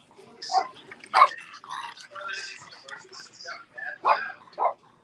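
An excited dog yips and barks in short bursts amid a lively football watch party for Brazil versus Norway, with people talking over and around the barks.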